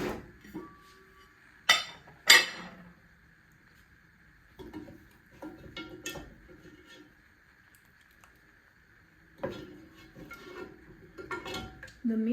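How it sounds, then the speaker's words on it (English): Meat and vegetables added to a cooking pot, with sharp metallic clanks and knocks of utensils against the pot in separate bursts and quieter rustling between them, over a steady faint kitchen hum. "Now I'm gonna add the meat and the vegetables and let it simmer."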